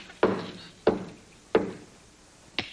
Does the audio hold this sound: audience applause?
no